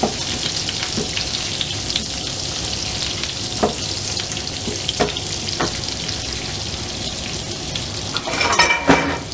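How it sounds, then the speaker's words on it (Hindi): Red chilies sizzle in hot oil for a Punjabi moong daal tadka, a steady close frying hiss punctuated by occasional spoon clinks and a louder burst of crackling at the end. "इसमें यहाँ हम ये रेड चिली डाल लेंगे।"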